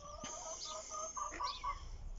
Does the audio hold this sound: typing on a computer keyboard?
no